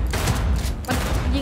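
Rapid volleys of gunfire from the video game Cyberpunk 2077, loud and continuous bursts with a brief lull near the middle, with some voice mixed in.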